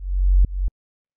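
A sub bass synth layer for a fierce club track, deep and booming, two short held notes in quick succession that cut off abruptly into silence, heard alone.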